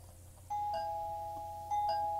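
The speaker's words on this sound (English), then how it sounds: "Doorbell." A doorbell chimes clearly during a Minecraft play session, two electronic tones ringing out and then repeating, loud and alone over a faint background hum.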